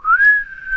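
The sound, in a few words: person whistling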